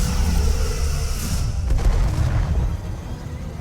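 Starship weapons fire and explosions in Star Trek: Resurgence, a heavy, loud booming rumble with a sharp crackling burst midway, then fading into low roar.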